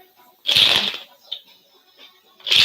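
Two loud riffles of cards being shuffled, a short pause of quieter handling between them, close to the listener.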